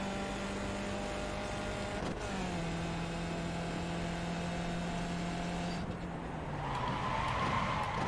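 Race car tires skid with locked brakes in the iRacing game at Belle Isle, a steady tonal screech gliding under the engine drone for several seconds before the car's sound shifts and rises at the end.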